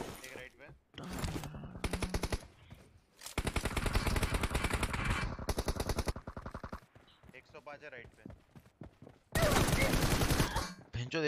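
Gunfire in the mobile shooter BGMI during a team deathmatch, with several long rapid automatic bursts separated by short pauses and a final loud burst near the end, loud and close.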